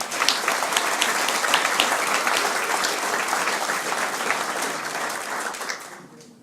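A full round of applause from the crowd at a regatta award ceremony, dense even clapping held for several seconds before tapering off at the end.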